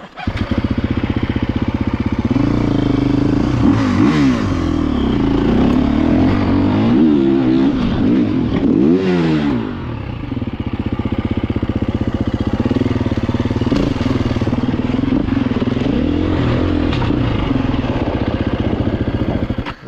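A motorcycle engine drones steadily up close, its pitch rising and falling as it revs through gears without pause.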